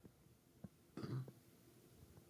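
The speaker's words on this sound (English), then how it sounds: "Sorry, I burped." A single short burp from a person, a brief, throaty, low rumble that stands out from an otherwise quiet background, with a couple of small soft clicks around it.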